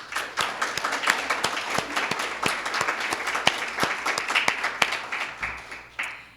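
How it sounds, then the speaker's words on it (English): Audience applause for the sponsors of a Leadership Catawba graduation program, a steady patter of many hands with sharp individual claps standing out, fairly close and fading slightly near the end. "Let's please give them a round of applause."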